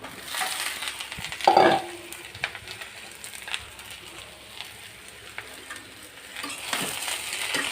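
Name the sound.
snake gourd being stir-fried in a pan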